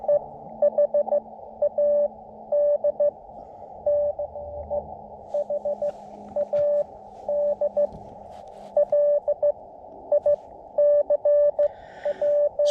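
Morse code CW sidetone from an amateur radio contact during a POTA activation at Skyline Drive State Forest: a steady single-pitch tone keyed in rhythmic dits and dahs with gaps, moderately loud over faint background hiss.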